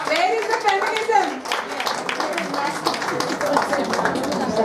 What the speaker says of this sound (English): You're not clapping well.